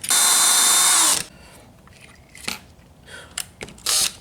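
A drill with a carbide-tipped bit boring into metal on a wing compass repair, a loud steady whine for about a second that stops abruptly, followed by faint scattered clicks and handling noises.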